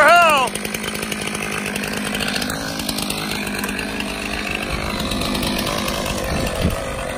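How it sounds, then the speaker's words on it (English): A chainsaw cuts limb firewood off a Polar 1500 utility trailer outdoors in the cold, running loud and close with a steady, revving snarl after a sharp opening burst. "fire up the saw, Ash"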